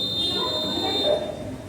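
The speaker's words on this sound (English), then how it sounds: "His buzzer is ringing." A buzzer on a light-beam security alarm science project sounds a steady high electronic tone, close and fairly loud over a faint room hum.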